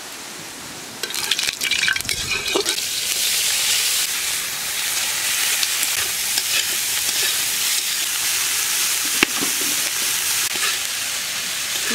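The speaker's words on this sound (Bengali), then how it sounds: "মাছগুলো ভাজা হয়ে গেছে" Fish and shrimp fry in very hot oil in a village kitchen, making a loud, continuous hissing sizzle that rises sharply after a brief quieter start.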